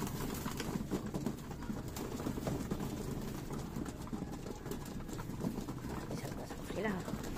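Pigeons cooing softly in a loft amid a busy background hum, with low murmuring calls scattered throughout and faint voices talking nearby.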